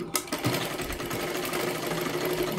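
A sewing machine stitching the shoulder seam of a blouse, a steady close mechanical whir with fast even needle ticking, alone without voices.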